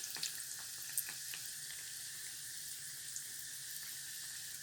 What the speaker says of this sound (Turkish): Orta ateşte kızarttığımız pişilerimizi ilk attığımızdan başlıyoruz çevirmeye